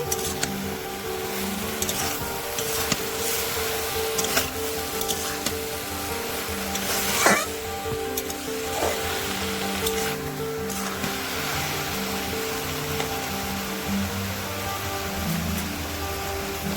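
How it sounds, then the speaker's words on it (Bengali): Malabar spinach being stirred in a frying pan with red chilli powder, a steady broad sizzle running throughout with occasional scraping clatters of the spatula, close and fairly loud. "লাল লঙ্কার গুঁড়ো দিয়ে ভালো করে নেড়ে নেব"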